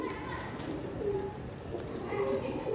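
Teddy pigeons cooing softly in low, rolling murmurs against a steady background hiss, a few coos rising slightly louder near the end.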